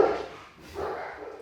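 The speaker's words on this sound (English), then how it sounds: "Love our dogs." A dog gives two short, muffled barks indoors, fairly close, the second following a brief pause after the first.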